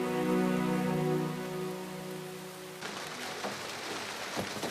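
Rain falling during a drama scene, a steady hiss of drops on a surface that rises after a sustained tone fades out, continuous and fairly close.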